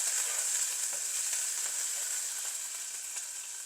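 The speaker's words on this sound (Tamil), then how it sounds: "இஞ்சி பூண்டு பேஸ்ட் சேர்க்குறோம். இது பச்சை வாசனை போகிறதுக்கு கொஞ்சம் ஃப்ரை பண்ணுறோம்." Ginger garlic paste fries in oil for a spicy deviled fish dish, a steady bright hiss of sizzling, close and continuous, fading slightly toward the end with no voices.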